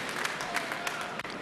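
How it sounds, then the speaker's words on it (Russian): Audience applause fills a boxing arena as spectators react to accurate punches from heavyweight Nikolay Valuev, the 34-year-old from Saint Petersburg, against Canadian Jean Francois Bergeron; a steady, dense wash of clapping with a few sharper claps, continuous throughout. "Аплодисментами встречает точные удары 34-летнего уроженца Санкт-Петербурга."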